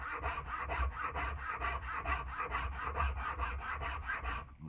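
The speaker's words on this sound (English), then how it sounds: "I'm gonna stay on that octagonal and rasp it in here." A hand rasp files an octagonal wooden tool handle in steady, even back-and-forth strokes, a rhythmic coarse scraping close by and fairly quiet, with no talking.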